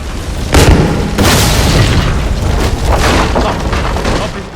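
A building explodes in Assassin's Creed Unity: a loud booming blast with a second heavy burst, then a long rumbling, crackling tail close by.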